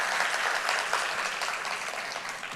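Congregation in a Korean church service in Kuala Lumpur gives a round of thankful applause, a dense, steady patter of many hands clapping at close range throughout, with no voices over it.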